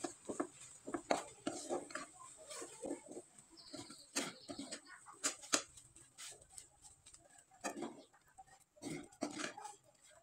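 A spoon scrapes and clinks against a pot as semolina dough for pitha is stirred and worked, a run of irregular metallic knocks and scrapes close by with quiet gaps between them.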